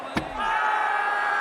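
Players in a New Zealand cricket match loudly appeal in unison, a sharp shout rising over a roaring crowd that keeps up a steady din afterward.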